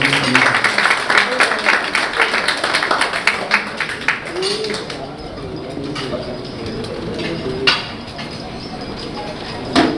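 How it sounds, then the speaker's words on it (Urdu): An audience at a charity mushaira in New York claps to welcome a visiting poet from Pakistan, applause strongest at first and then fading under a low murmur and scattered taps. "بھرپور تالیوں میں استقبال دیجیے"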